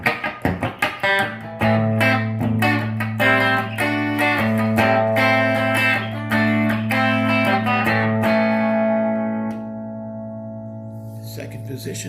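Electric guitar played through a worn Gibson GA30-RVT tube amp with its reverb on, ringing chords and sustained bass notes for about ten seconds before fading into a reverb tail; no talking.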